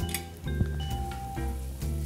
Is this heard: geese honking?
no